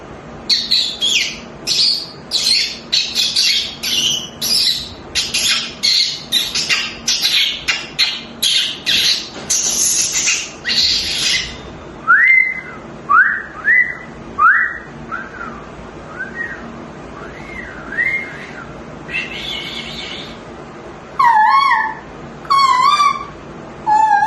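A mimicry artist whistles a long run of bird calls, starting with rapid bright chirps and trills, then shifting to separate rising whistles and a few warbling phrases, all loud and close.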